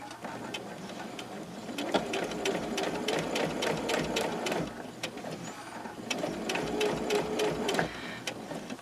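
A sewing machine stitches the last corner of a single-fold quilt binding, a quarter inch in. Steady rapid needle clatter runs close and continuous throughout, with no talking.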